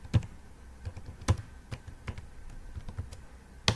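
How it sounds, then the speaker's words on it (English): A password is typed on a computer keyboard in a quiet room: a few sharp, separate key taps and clacks with short pauses between them, close and fairly clear, with no talking. "I will type"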